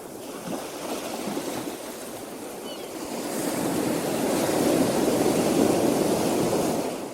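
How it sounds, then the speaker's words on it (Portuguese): Beach surf washes in as a continuous broadband hiss, swelling louder in the second half as a wave builds and breaks, with no voices over it. "É isso mesmo, vem da praia."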